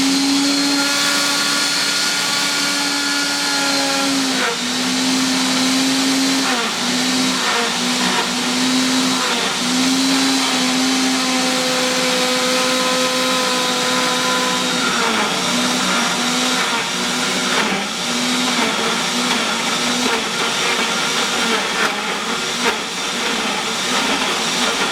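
A blender whirs loudly and continuously as it mixes a green smoothie with frozen fruit, its motor pitch wavering and dipping as the chunks shift and catch.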